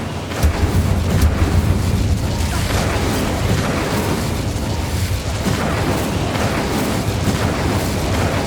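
A fiery Incendio spell bursts out in Hogwarts Legacy, a dense roaring blast of flame and rumbling booms that stays loud and continuous throughout, with no voices.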